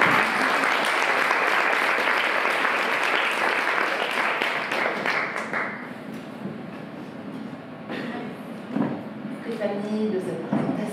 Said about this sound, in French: Mesdames et messieurs, je vous demande d'applaudir le docteur Violaine Guérin